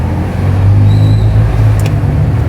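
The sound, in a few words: bus passing on the road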